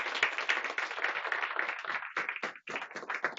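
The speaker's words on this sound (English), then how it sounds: "let's give Karen another round of applause" Audience at a workforce and community health presentation gives a speaker a round of applause, brisk overlapping hand claps at moderate volume with no talking.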